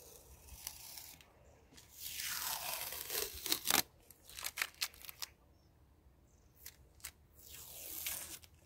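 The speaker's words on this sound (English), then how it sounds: "So satisfying pulling off masking tape." Masking tape peels away from a freshly painted narrowboat stencil in a long tearing rip, then several short crackling pulls and snaps, close and fairly quiet.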